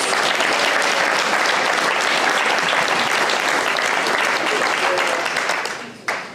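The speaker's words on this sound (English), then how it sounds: "How about another round of applause for those guys?" Crowd at a Guide Dogs for the Blind graduation gives another round of applause, steady close clapping that holds for several seconds and then fades away with a final sharp clap.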